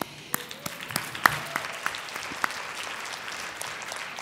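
A conference keynote audience applauds with a scattered patter of individual claps, moderately distant and fairly light, sharp hand strikes popping out of a soft crowd clapping texture.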